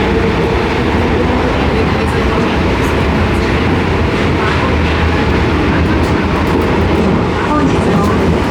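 The Shonan Monorail runs near Enoshima, heard from inside the car as a loud, constant rumble and rushing roar with faint rhythmic clatter throughout.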